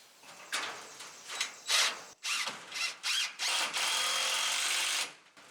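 Power drill driving screws into a floating rabbit cage, heard as a series of short whirring bursts that end in one long sustained run, close and fairly loud with no talking.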